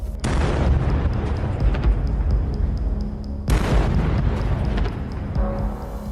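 A Russian tank blows up after a Ukrainian kamikaze drone strike: a loud, dense rumbling blast that roars continuously, then a second sharp detonation midway that sustains the heavy, crackling roar.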